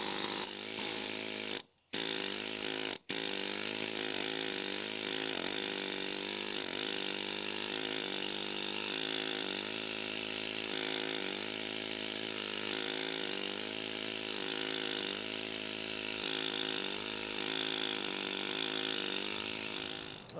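A steel chisel or rasp wears away building stone a little at a time while shaping and rockfacing it, giving a steady, continuous grinding rasp close by, briefly interrupted early on, with no talk.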